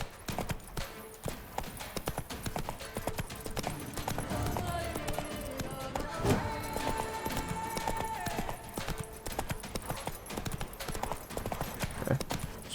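Hooves of the horse Roach clip-clopping in The Witcher 3 video game, a steady rapid trotting rhythm throughout at moderate loudness, with faint game ambience and a tonal music-like layer underneath.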